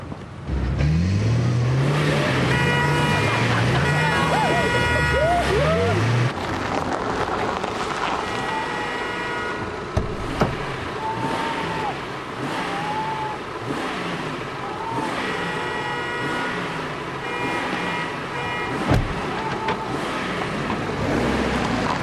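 A car engine revs hard with rising, swooping pitch, then settles into a steady, loud driving drone with a couple of brief thumps.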